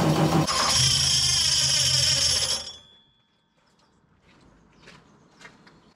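A Ford Mk2 Escort engine on its first start fires loudly and runs roughly for a couple of seconds before dying abruptly, leaving near silence with faint clicks and rustles afterward.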